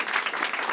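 Applause from a comedy club audience at the Barbès Comedy Club, steady dense clapping filling the whole short moment without a break.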